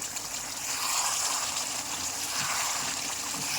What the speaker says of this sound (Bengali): দেখুন কি সুন্দর ফুটছে।